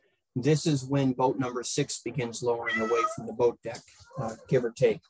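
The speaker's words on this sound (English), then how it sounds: "I hear a cat." A house cat meows a few times, partly buried under a steady stream of close, indoor narration by a talking voice.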